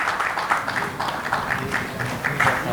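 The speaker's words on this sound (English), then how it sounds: "Everybody, can we please keep clapping?" An audience at a seed research and innovation conference session claps in a light, patchy round of applause that stays steady and moderately distant.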